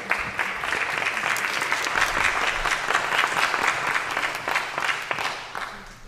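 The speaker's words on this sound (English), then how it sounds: "let's give them a round of applause." A sustained round of applause at a school board special meeting, many hands clapping steadily at moderate distance, a few distinct claps popping out before the applause thins at the end.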